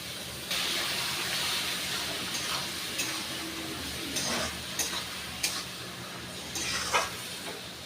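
Soft, steady sizzle of onion and garlic paste frying in a pan with a few scraping stirs and light clatters, no talking.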